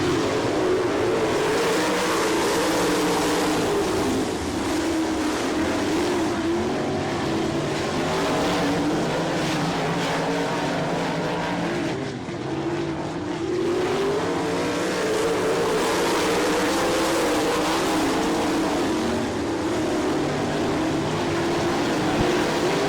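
Sprint race cars roar around the dirt oval at Attica, a loud continuous engine howl with rising and falling pitch as cars pass close, briefly dipping midway before surging back.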